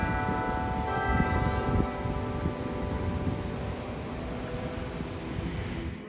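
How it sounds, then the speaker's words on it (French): Chapel bells at the United States Naval Academy in Annapolis ring out in sustained overlapping tones, a rich, resonant peal heard from some distance over a low background rumble, with no voices. "une très belle chapelle dont les cloches retentissent dans toute la ville"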